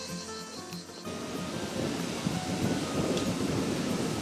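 Natural spring water flowing steadily at a quiet campsite, a broad continuous rushing that swells after the first second and stays dense and close.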